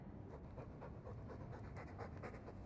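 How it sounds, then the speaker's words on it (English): Dog in the video game Dragon Age II panting steadily in quick, rhythmic breaths, fairly quiet and close, with a brief louder bump at the very end. "All that noisy dog breath, day in, day out."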